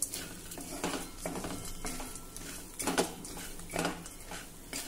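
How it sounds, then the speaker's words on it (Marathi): Sandge lentil dumplings roast in oil with spices in a pan, stirred with a metal spoon that scrapes and clinks against the pan in irregular strokes, close and fairly loud, without speech. "आता या सर्व मसाल्यांबरोबर तेलामध्ये 1-2 मिनिटांसाठी हे सांडगे आपल्याला जरा भाजून घ्यायचे आहे"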